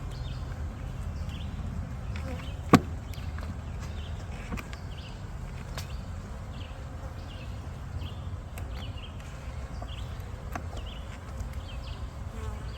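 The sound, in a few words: honey bees buzzing during a hive inspection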